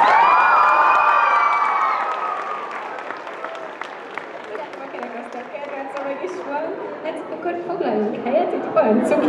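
Applause and cheering from a convention audience greeting panel guests at an anime roundtable, loud at first and then settling into steady clapping with whoops, with voices talking over the crowd.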